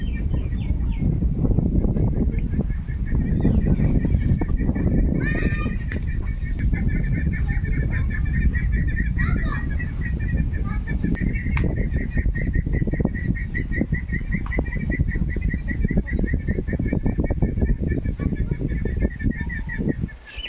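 Chinese geese kept as pets, roaming around a house yard away from the river, give steady honking and calling over a continuous noisy outdoor background for the whole stretch, with a brief burst of louder calls partway through.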